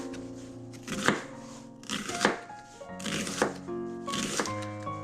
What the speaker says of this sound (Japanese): まず野菜から切っていきたいと思います